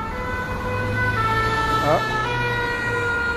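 A fire engine siren wails past near the foot of the château in Angers, a steady sustained tone that bends in pitch midway as it passes, over street traffic rumble with a brief voice.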